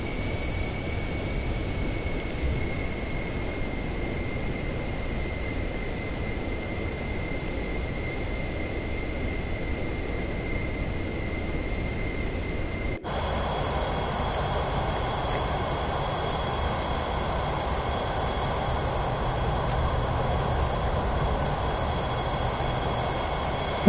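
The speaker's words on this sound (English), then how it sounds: "Let's park this airplane." Airliner engines hum steadily in Microsoft Flight Simulator 2024 as the plane taxis in Switzerland, a continuous droning whine with a steady tone that shifts abruptly partway through to a louder, brighter roar, no voices.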